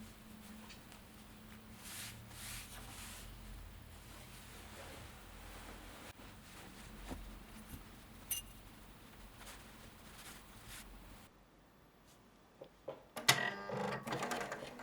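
A sewing machine stitching a skirt side seam for a shirtwaister dress, whirring in steady continuous runs with brief pauses, followed near the end by a few sharper clicks and handling sounds.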